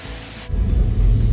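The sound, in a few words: waterfall water falling at Kanchenjunga Falls, Pelling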